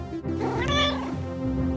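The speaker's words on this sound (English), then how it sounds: "My cat's whining" A pet cat whines with a single drawn-out, rising and falling meow, loud and close, with no one talking over it.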